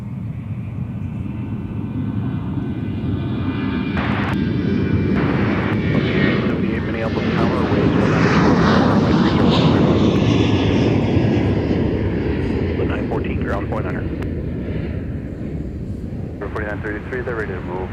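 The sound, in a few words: Delta airliner at MSP airport, flight to Bismarck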